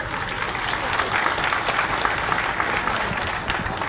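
Audience applause fills the hall, a steady, dense wash of many hands clapping at even loudness from start to end, with a faint voice briefly at the start.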